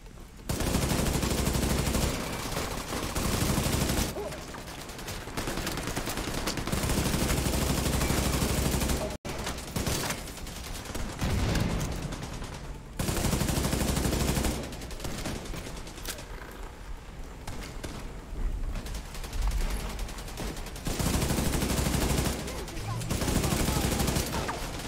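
Automatic weapon fire from The Division 2 hammers in long, sustained bursts separated by brief pauses, loud and dense throughout.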